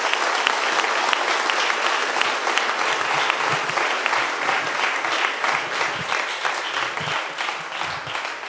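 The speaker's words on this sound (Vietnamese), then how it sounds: "Chúng ta có thể cho một tràng pháo tay để chúc mừng các em." Steady, dense applause from a congregation at a Vietnamese parish confirmation Mass in Paris, congratulating the confirmation candidates; many hands clap continuously with an even, sustained patter and no voices.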